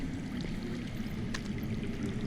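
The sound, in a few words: underground running water, from the video game Game of Thrones (Telltale)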